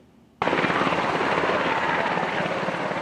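A firefighting helicopter flies over a hillside cemetery wildfire to drop water, its loud, close rotor chop starting abruptly and holding steady.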